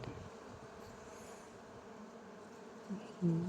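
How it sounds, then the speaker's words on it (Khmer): A bee hovers and feeds on ten o'clock flowers (portulaca) of a new variety, giving a steady low buzz close by that swells slightly near the end. "បងប្អូនមើលឃ្មុំដល់ក្រេបផ្កាខ្ញុំហ៎"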